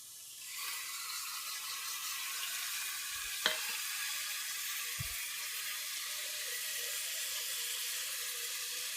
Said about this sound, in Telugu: ఇదిగోండి కుక్కర్ గిన్నె పెట్టి నూనె పోసి ఉల్లిపాయ ముక్కలు వేసాను. ఇలా వేపుకోవాలి.